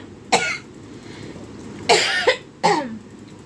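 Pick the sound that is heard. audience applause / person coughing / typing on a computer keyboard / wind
person coughing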